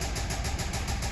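A 2013 Ford F-150 6.2-liter V8 with engine knocking runs steadily at idle in a repair shop, a constant close low rumble with no change in pitch.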